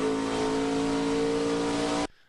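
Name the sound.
race car engine revving as driver pedals throttle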